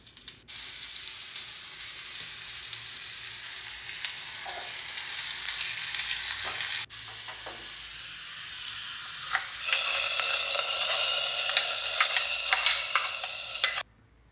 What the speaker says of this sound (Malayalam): ഇനിയിപ്പോൾ നമുക്ക് അതിലേക്ക് വെളിച്ചെണ്ണയിൽ ചെറിയ ഉള്ളി അത് വഴറ്റിയിടാണ് വേണ്ടത്